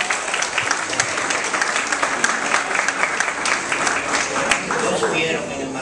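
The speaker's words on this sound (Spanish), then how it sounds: "Un aplauso a la" Applause from the audience at a municipal literacy board meeting: a thick, continuous wash of clapping, loud and steady throughout the six seconds with no pauses.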